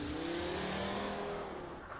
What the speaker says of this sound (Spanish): ese coche blanco que no quiere entrar al control.